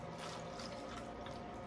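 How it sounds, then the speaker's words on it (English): Water from a tap running steadily into a cooking pot of white and red potatoes, a continuous close splashing fill with no voices over it. "And then I'm going to cover it with some water."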